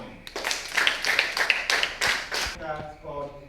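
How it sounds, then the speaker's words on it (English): A quiz-show audience claps for a competing team after its points are announced, a dense burst of applause with crowd voices mixed in that cuts off sharply near the end. "Clap for them. Clap for them."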